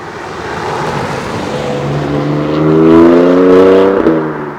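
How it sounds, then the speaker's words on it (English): A BMW M4 GTS accelerates hard, its engine note climbing steadily in pitch and loudness as it revs, loud and close from inside the car, with no talk. "Acceleration on this car is savage. I can't believe how fast this car is."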